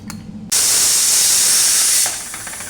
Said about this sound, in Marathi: दोन शिट्ट्या काढून घ्यायच्या कुकरला